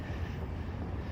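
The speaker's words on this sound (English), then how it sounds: "Pardon the noise in the background of all the trucks rolling in to this parking lot." Trucks rolling into a parking lot make a low, steady engine drone that rumbles faintly in the background, with no talking heard.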